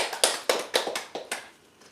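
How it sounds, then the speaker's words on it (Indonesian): A church congregation claps in a loose rhythm, about eight sharp, fairly close hand claps that thin out and fade toward the end. "Tepuk tangan buat Tuhan."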